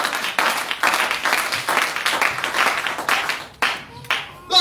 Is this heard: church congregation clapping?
yes